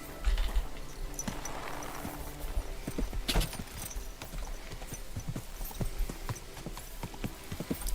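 Horse hooves clip-clop steadily as a rider travels through Kingdom Come: Deliverance 2, an even, unhurried walking rhythm of distinct hoof strikes over soft ground, with faint ambient outdoor sound beneath.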